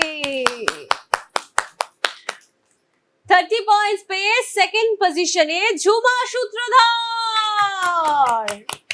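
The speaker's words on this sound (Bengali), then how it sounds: "হাততালি দাও নিজের জন্য।" A group claps in a quick, uneven burst for quiz round scorers, then someone speaks loudly, with a few scattered claps under her voice.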